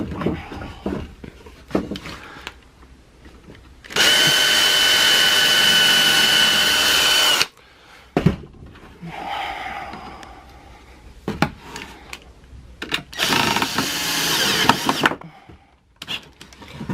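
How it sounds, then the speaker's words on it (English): A power drill bores into a bamboo audio diffuser frame in two long, loud, steady bursts close by, separated by clattering handling of the wood and workshop knocks. "drill that one in there, turn it over that way"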